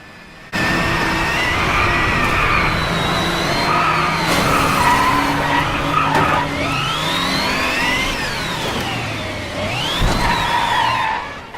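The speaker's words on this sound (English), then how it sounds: "take a look at this insane wreck I had while playing" A car wrecks in the DriveClub racing game, its tires skidding and squealing in long sweeping howls over a revving engine, loud and close, before the noise fades at the end.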